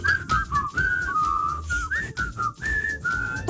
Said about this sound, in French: faire aussi un sifflement